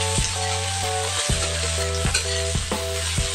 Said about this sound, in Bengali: ভালো করে পেঁয়াজ কাঁচা লঙ্কাটা ভেজে নিতে হবে।